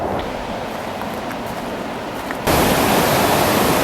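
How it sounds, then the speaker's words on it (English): A waterfall at the Columbia Gorge in Washington, heard from its base as a dense, steady roar of rushing water that jumps abruptly louder partway through and then holds constant. "So right now I'm at the base of the waterfall."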